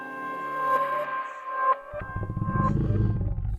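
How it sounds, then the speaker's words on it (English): Reversed pad sample on an MPC sampler: a swelling tonal bell-like pad that surges and cuts off, then gives way to a dense low rumbling texture, loud and short with no talking. "it sounds like this when it's reversed."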